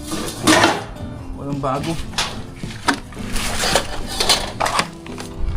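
Pots and pans clattering and scraping as someone rummages through cookware at a Taiwanese surplus goods store, steady metallic knocks running under a person talking throughout.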